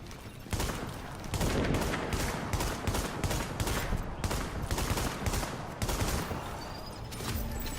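Hostile NPCs fire guns nonstop in a video game shootout, a loud, dense rattle of overlapping shots from close range that runs throughout with only tiny breaks.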